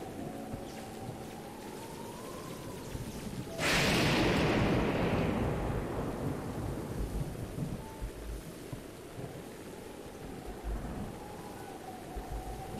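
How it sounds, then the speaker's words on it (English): Steady rain hisses throughout in The Legend of Zelda: Breath of the Wild, with a loud thunder crack and rumble bursting in partway through and rolling off slowly into the downpour. "you can still hear the rain"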